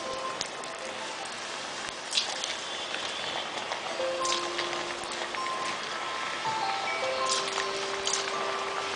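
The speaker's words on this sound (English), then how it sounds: "My oil is quite hot. Now I will add potatoes one by one." Potatoes sizzle in hot oil, a continuous soft crackle and spatter with scattered pops as pieces are added one by one.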